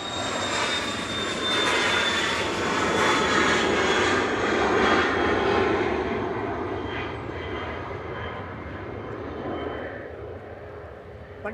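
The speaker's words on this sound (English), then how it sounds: "Cessna Citation XL headed to Genoa for some cake, I assume." Cessna Citation XL business jet departing Manchester Airport, a loud broad engine roar that swells and then slowly fades into the distance, with no talk over it.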